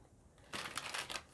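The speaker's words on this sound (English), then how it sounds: "A few more shuffles." Oracle card deck, a moonology deck, being shuffled: a quiet start, then a run of close, crisp papery riffling bursts for about a second.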